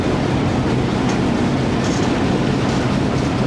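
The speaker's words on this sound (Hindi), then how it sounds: "मुजफ्फरगढ़ रेलवे स्टेशन से चल पड़ी है ट्रेन" A shuttle train pulls out of Muzaffargarh railway station, its carriages giving a steady, loud rumble with a faint clatter of wheels on rails, heard close up from on board and without talk.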